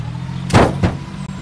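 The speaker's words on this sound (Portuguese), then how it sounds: "o que acontece com o zumbi se atropelar?" A car in the Survive the Nights video game runs over a zombie: two heavy thumping impacts, the second softer, land close together over a steady low engine hum.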